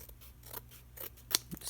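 Scissors snipping paper while decorating a journal page, a few quiet close cuts with one sharper snip near the end, alone without speech.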